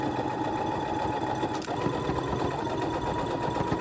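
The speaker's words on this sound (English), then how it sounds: "now I'm going to sew around my armhole to keep everything in this position" A sewing machine runs steadily while stitching around the armhole of a velvet holiday dress, giving a close, continuous whirring hum with a fast mechanical rhythm and no pauses.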